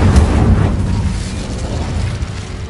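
Incendio fire spell cast in Hogwarts Legacy, a loud fiery burst with a boom at onset that settles into a sustained rumbling roar for a few seconds, with no talk.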